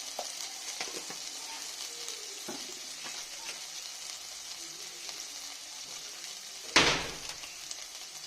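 Spices with salt and turmeric frying in a pan for a fish curry, a low steady sizzle with a few faint stirring taps and one sharper scrape near the end.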